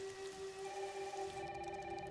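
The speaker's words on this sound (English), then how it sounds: "Oh, it's really coming down hard." Heavy rain in the video game Resident Evil: Requiem, a steady hiss of downpour under a faint electronic telephone ring.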